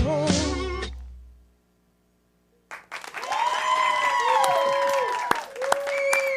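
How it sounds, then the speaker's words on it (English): After a song ends and a short silence falls, a comedy-show audience breaks into sustained applause that carries to the end, with scattered cheers and whistles mixed into the clapping. "let's get one more round of applause for Jay"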